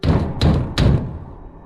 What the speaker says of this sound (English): A few seconds later, they banged on the door again. These were aggressive knocks, not those of someone friendly.